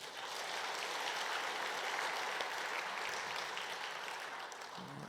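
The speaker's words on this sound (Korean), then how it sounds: "우리 감사의 박수만 하겠습니다" A church congregation's sustained applause of thanks, an even wash of many hands clapping at moderate distance and fairly soft, continuing for several seconds without talk.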